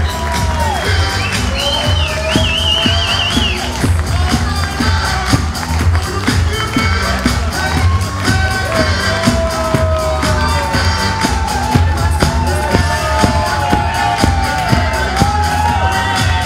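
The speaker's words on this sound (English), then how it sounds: "Give them a very big applause for the team!" Audience at an awards ceremony cheering and applauding the organization team onstage, a dense steady crowd roar with whoops and claps over music, continuous and loud.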